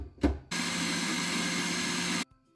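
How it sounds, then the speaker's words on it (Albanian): A kitchen blender purees apples with milk in a steady, loud whir lasting nearly two seconds, cutting off sharply. A short thump comes just before it starts. "I kalojmë në blender dhe i kthejmë në pure."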